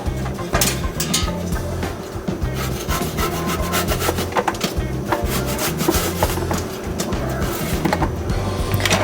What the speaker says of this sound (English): I grated the beets.